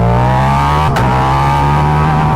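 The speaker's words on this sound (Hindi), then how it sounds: "क्या एग्जॉस्ट है भाई" A Ducati V4 motorcycle exhaust roars loud and close while revving hard in first gear, with a steady high-pitched engine drone, a brief sharp break near the first second, then the full rev carrying on.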